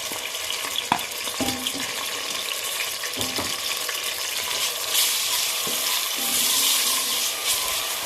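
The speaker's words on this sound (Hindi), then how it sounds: "इसको लाइट सा ब्राउन करेंगे हम प्याज को ना, 1-2 मिनट के लिए।" Loud, continuous sizzle of onion frying in oil, punctuated by a few clinks and scrapes of a spoon stirring in the pan.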